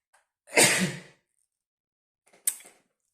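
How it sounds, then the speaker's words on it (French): A single loud, breathy sneeze up close, followed after a pause by a shorter, sharper second burst, with quiet in between. "ça m'arrive encore d'éternuer un peu"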